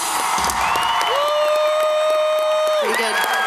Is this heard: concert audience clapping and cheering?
yes